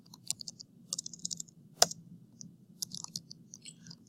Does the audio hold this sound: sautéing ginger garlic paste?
no